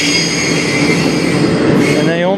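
CN freight train rolling past on the Strathroy Sub, a loud, continuous rumble of wagons with high metallic wheel squeal ringing over it, heard close by.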